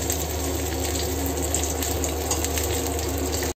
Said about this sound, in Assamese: পিঁয়াজখিনি দি থৈছোঁ ভাজি আছোঁ